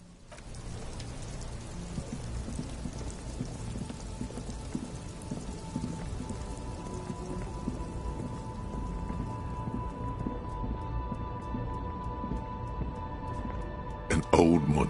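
Steady rain pattering through a street scene in the video game Disco Elysium, a continuous even wash with faint background tones, ending in a short louder burst.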